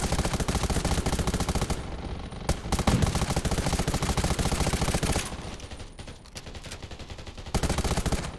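Rapid bursts of gunfire in the video game Undawn, loud and close, rattling in quick repeated volleys with brief pauses between strings of shots.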